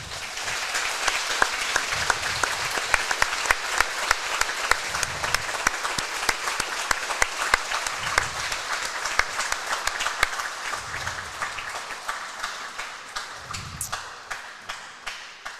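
A gym crowd at a varsity volleyball match between Wahpeton and Fargo Davies applauds steadily as an injured player is escorted off the court, the clapping loud and sustained and gradually tapering near the end.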